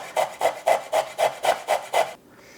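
Fresh galangal is rubbed against a grater for chicken satay with peanut sauce, eight even rasping strokes in a steady rhythm, close and clear, then it stops.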